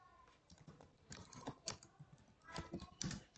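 Someone types a query on a computer keyboard, close and quiet, with irregular bursts of key clicks and short pauses between runs of keystrokes.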